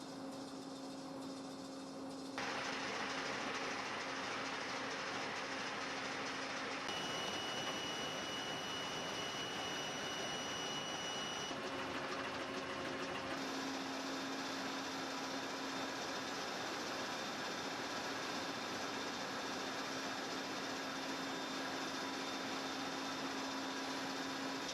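A giant marine engine runs during a partial-load test, a loud, steady whining roar that persists throughout, with tonal hum shifting a few times as the load changes and no voices.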